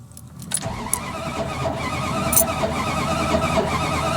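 A car engine cranks repeatedly without catching, the starter churning in a steady close-up grind that grows slightly louder over a few seconds.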